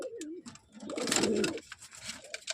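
A pair of Kaldam pigeons coo nearby, a soft rolling call rising and falling over a couple of seconds, fairly quiet with no talk.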